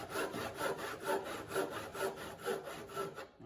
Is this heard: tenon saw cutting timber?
yes